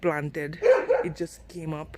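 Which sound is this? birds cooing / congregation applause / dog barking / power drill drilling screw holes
dog barking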